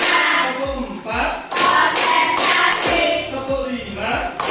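Schoolchildren in a classroom clap in unison, a run of loud, close bursts of claps mixed with dull thumps and background voices.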